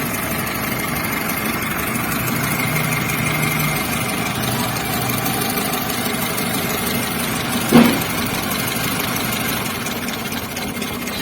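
An engine idles close by with a spark plug lead removed, misfiring with an uneven, rough, stumbling rhythm, and a brief sharp click or pop partway through.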